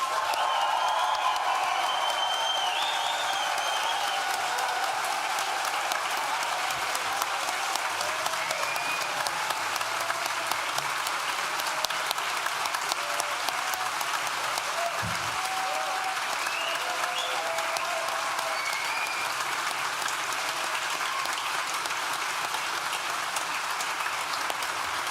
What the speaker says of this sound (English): let's give it one last shout, whistle, round of applause